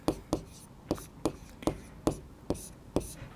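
A pen scratches out a trigonometry maths solution, giving a quick, regular series of about ten close, crisp strokes, each a short scratch that fades quickly.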